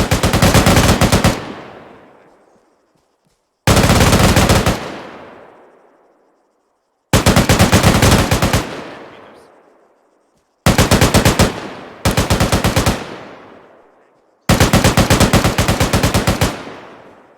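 M240 machine gun firing at long range during a squad training exercise in a military game, six sharp sustained bursts, each cut off abruptly and trailing into a long echoing decay, loud with no talk.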